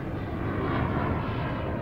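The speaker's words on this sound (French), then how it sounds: "Ce décollage sur un moteur est réussi." Steady roar of a Falcon business jet taking off on a single engine after an engine failure, a broad continuous rush heard up close without any voices.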